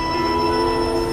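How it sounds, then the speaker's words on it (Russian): A steady metallic rail screech with humming tones as a train departs in the game Syberia 2, continuous and fairly loud, no voices. "Поезд-то и уезжает."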